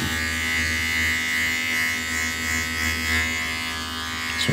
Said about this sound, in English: let's shave a bit more hair.